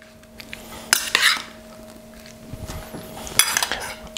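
A spoon scrapes and clinks against a bowl while mixing food for a spiced prawn dish, a few sharp metallic taps and stirring scrapes, close and clear with no talk.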